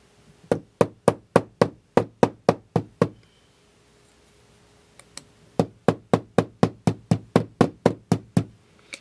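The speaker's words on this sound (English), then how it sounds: "then I'll start using the flat end of the hammer" A hammer strikes metal repeatedly while closing up a conical bolo tip, in crisp, evenly spaced ringing blows: a run of about ten, a short pause, then about fifteen more, loud and close.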